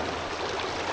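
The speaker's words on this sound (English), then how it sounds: "the water's running quite fast, but it's not particularly high actually" The upper River Spey runs fast in March, a dense steady rush of flowing water, close and continuous with no voices.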